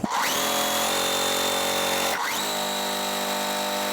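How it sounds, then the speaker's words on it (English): A sewing machine stitches quilt fabric pieces for a quilt block, a loud steady mechanical whir running continuously with a brief pause and restart midway, no talking. "So let's go ahead and sew the block."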